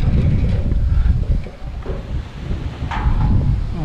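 Loud, gusty wind buffets the microphone with low rumbling, rising and easing in strong gusts.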